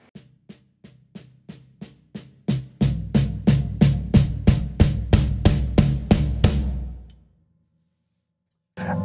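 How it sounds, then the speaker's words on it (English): Drum kit crescendo: steady repeated snare and floor tom hits, quiet at first, then much louder with a kick drum thumping underneath, about twenty even strokes before stopping into silence. "we're going to start crescendo in our snare and floor tom"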